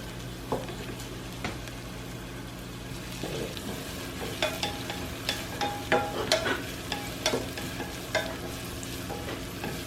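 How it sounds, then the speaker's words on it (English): Onions frying in a pan, a steady soft sizzle with occasional stirring scrapes and clinks that get busier toward the end. "cook these onions until they start becoming aromatic and they'll start softening"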